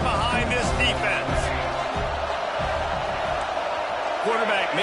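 A college football stadium crowd roars in a steady, loud wash of cheering during a third down, with a commentator talking over it.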